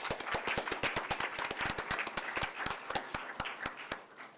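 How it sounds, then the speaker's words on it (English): Scattered audience applause at a township council meeting in Franklin Township, New Jersey, a modest group clapping in an uneven, sparse rhythm that stays steady and moderately close throughout. "let's give them a round of applause."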